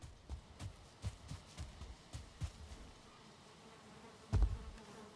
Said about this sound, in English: Nothing in here besides bees.